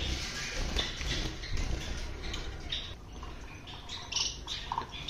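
Bengali finches chirp in a cage where chicks have just hatched, giving scattered, fairly faint tweets over a soft noisy background with no talking.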